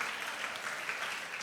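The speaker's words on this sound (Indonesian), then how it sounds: "Tepuk tangan." A congregation applauds at an anniversary celebration of a foundation and church, soft continuous clapping from a crowd heard at moderate distance, brief and without talk.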